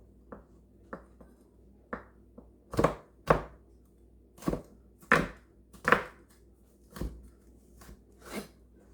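A knife cuts through leeks on a cutting board in about a dozen crisp, uneven chops. Some strokes are light taps and others are heavier thuds, with short pauses between them.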